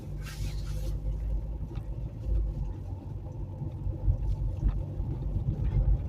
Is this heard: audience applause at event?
no